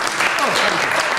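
Dense applause from an audience for teachers fills a short burst, with voices mixed into the clapping.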